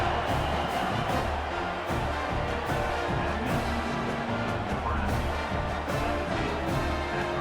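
Dense stadium crowd roar from College Football 26, Akron Zips vs. Nebraska Cornhuskers, right after an extra point, a steady loud buzz of cheering with band-like tones underneath, no clear talk.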